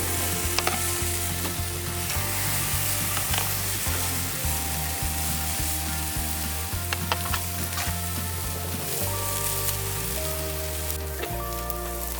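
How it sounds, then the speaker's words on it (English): Meat sizzles and crackles continuously on a greased barbecue grill outdoors at an alpine ski resort, close up, with a steady low tonal hum and occasional sharper pops. "When I hear a nice sizzle."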